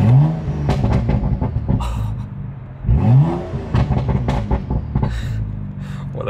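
A BMW engine with an MHD tune revs repeatedly up and down at low RPM during a cold start, loud and close, each blip rising and falling in rhythm.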